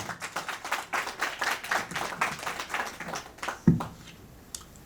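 Applause at a wedding ceremony: a crowd claps in a steady, rhythmic patter for about three and a half seconds, then fades to a few scattered claps and a single louder knock.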